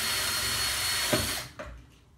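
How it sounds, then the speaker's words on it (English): A power drill whirs steadily for over a second drilling a corner hole in an IKEA part for a 3D printer motor mount, then winds down and stops, leaving a brief quieter tail. "what I will use is a drill just to drill a hole in the corners"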